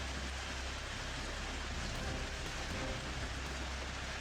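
Heavy rain pours down steadily, a dense unbroken roar of water with no other sounds.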